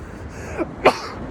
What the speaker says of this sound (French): un petit éternuement d'abord